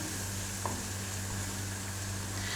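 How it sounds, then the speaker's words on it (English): Pakoda fritters of runny gram-flour batter sizzle steadily in oil for kadhi, a constant close frying hiss with no talk. "you have to ensure that your oil also is not super hot when you begin the frying"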